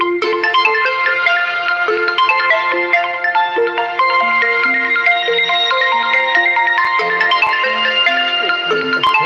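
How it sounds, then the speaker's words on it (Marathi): A loud melodic phone ringtone plays steadily, a bright electronic tune of stepping notes repeating without pause. "फोन कोणाचा आला मध्ये"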